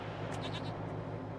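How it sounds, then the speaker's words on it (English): Mountain goat bleating in the video game Wasteland 3, in the Denver area: a short, faint, wavering cry over a constant low background hum. "this is also a good place if you want to have an animal companion with a mountain goat"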